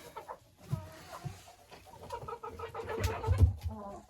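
Chickens cluck and murmur inside an unheated coop, a low, scattered chorus of soft calls that grows busier and louder toward the end, with a few sharper squawks.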